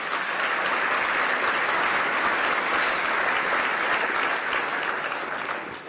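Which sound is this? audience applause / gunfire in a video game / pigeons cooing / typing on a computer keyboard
audience applause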